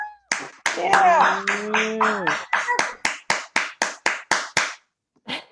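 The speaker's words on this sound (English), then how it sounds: "give a big round of applause to Miro" An online audience at a virtual poetry book launch claps for a debut poet: bursts of applause, then sharp separate claps that thin out, with a voice cheering over the opening.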